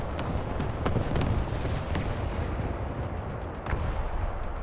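Artillery fire in War Thunder near an AMX-13 FL11 tank, a dense rumbling barrage with repeated heavy thuds and blasts over a constant low roar.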